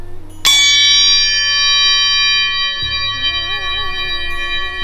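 Two gongs are struck at once, giving a loud sudden clash that rings into a long dissonant shimmer, while a spinning gong adds a slowly wavering, warbling tone as the sound sustains.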